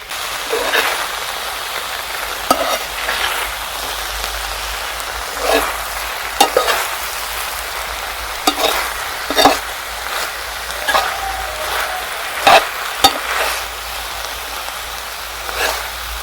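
Eggplant sandwiches coated in an egg and coriander mixture fry steadily in a pan, giving a continuous crackling sizzle with scattered sharp pops and clicks from a utensil at intervals, and no speech.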